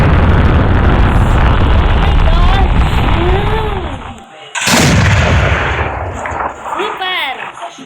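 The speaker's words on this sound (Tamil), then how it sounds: "பற்ற வச்சுட்டு ஓடியே போயிடணும்." Lit firecracker bursts with a loud, sharp blast in the middle, set off amid steady background noise of fireworks and voices; a couple of rising whistles are also heard.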